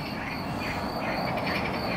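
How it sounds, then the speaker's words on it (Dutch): A dense night chorus of croaking frogs mixed with insect chirring, steady and fairly distant, with no voices. "je hoort de kikkers kwaken"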